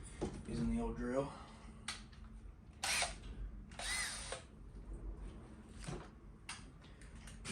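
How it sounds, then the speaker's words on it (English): A power drill runs in short bursts while fastening a license plate onto the front bumper of a Hyundai Genesis Coupe, with several brief whirring spurts close by and talking mixed in between. "I'm about to drill that in using the old drill."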